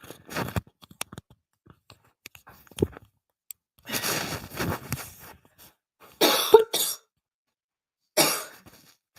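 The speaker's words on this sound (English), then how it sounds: "I just needed to cough, but I didn't want to cough into the microphone" Several muffled coughs, turned away from the microphone, come in separate bursts with pauses between them, sounding slightly distant, amid small clicks and rustles.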